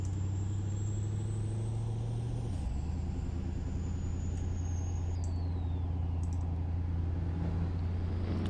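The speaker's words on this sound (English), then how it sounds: "Oh my god, dude, listen to that turbo!" A car engine with a turbo in the Roblox Greenville driving game holds a steady low drone, with a high whistle that rises, steps down and fades, under a constant buzzing hum.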